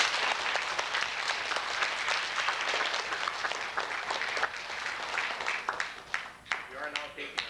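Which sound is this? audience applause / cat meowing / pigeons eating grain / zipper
audience applause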